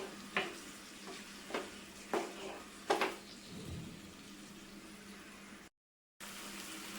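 A coconut mixture for sadya-style vendakka (okra) bubbles and sizzles softly in a pan on the stove. A few sharp spoon scrapes and clinks come early, then a steady, quiet simmer.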